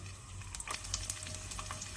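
Garlic cloves frying in well-heated oil for a chutney powder, a close crackling sizzle with scattered sharp pops and spits over a low steady hum, no voices.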